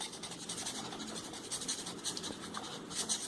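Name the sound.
coloring in part of a figure by hand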